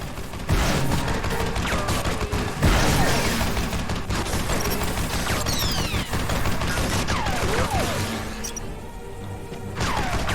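Turret machine gun fire in the sci-fi shooter Fracture on PS3, heard as a loud, dense, sustained barrage of rapid shots and crashing impacts that roars on without a break.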